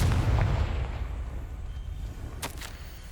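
A Confringo spell explosion in the video game Hogwarts Legacy opens with a deep rumbling boom that slowly decays, and a short crackling burst follows near the end, moderately loud with no voices.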